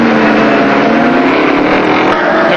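A Ford touring race car at the 1979 Bathurst circuit, its engine droning loud and steady with a continuous high-revving roar as it pulls away, heavy wind-like noise throughout.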